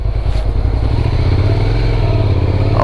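A rider's first motorcycle engine while riding, a loud steady drone with a low throbbing tone, a slight rise in pitch as it pulls and some wind rumble throughout.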